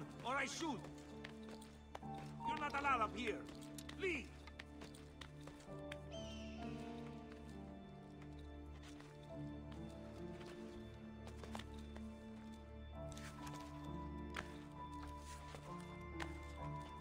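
A horse whinnies and its hooves clip-clop in an Assassin's Creed II game scene, with a high neigh early on over a steady game soundtrack and someone talking throughout.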